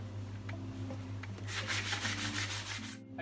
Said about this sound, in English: we're just going to give them a light sanding by hand just to take off some of the burning from the round